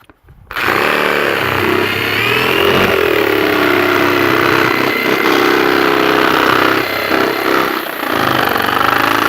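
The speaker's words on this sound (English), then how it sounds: "we're going to take our handy jigsaw here, and we're just going to cut hole to hole until we have the center cut out" A handheld jigsaw cuts hole to hole around the center of a worm bin, starting abruptly and then running as a loud, continuous buzzing motor whine with slight shifts in pitch and load as the blade works.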